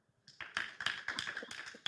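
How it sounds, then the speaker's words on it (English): A small audience at an art book fair claps for an author, a sparse scattering of distinct hand claps starting after a brief quiet and continuing unevenly, thin and fairly close rather than a full ovation. "let's give a big applause for Jannete."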